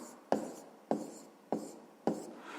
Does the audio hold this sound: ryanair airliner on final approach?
no